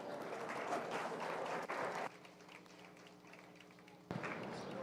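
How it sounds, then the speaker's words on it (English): Spectators at a county 4-H fair beef show applaud a champion heifer and her young exhibitor, a burst of clapping that drops off midway, leaving a quiet hum, then resumes abruptly near the end. "Let's give her a big round of applause."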